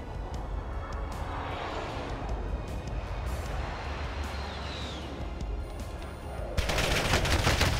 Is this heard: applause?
no